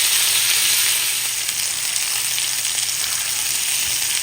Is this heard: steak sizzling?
yes